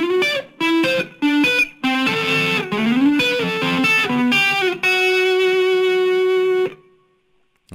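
Electric guitar plays a funky Texas blues lick, with choppy staccato notes and sixths leading into a long sustained final note, up close with a slightly driven tone before falling silent.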